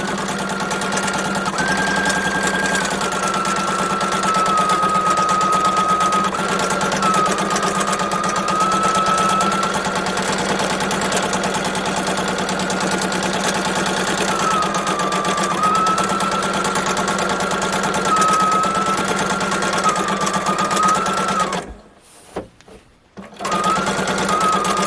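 Sewing machine stitching steadily during free motion quilting, a continuous close mechanical whir that holds for about twenty seconds before briefly stopping and starting again.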